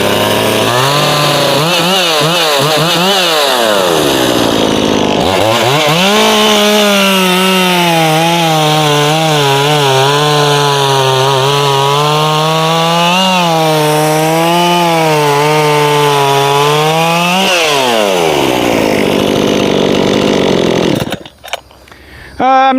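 A Solo by AL-KO 6656 chainsaw fires up on choke, then holds a loud, steady high idle with a slight warbling rise and fall, before cutting off abruptly near the end.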